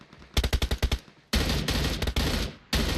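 Rapid gunfire in the mobile shooter PUBG Mobile: a quick burst of single shots, then heavier sustained automatic volleys broken by short gaps, loud and close.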